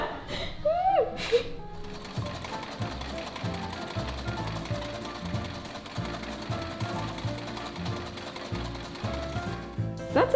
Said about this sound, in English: outdated treadle sewing machine in the studio